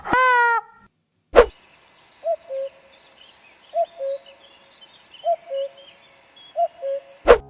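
A cartoonish small-bird chirping sound effect: a quick rising whistle opens, then soft paired chirps repeat at a steady pace between two sharp clicks, clean and isolated with no talk.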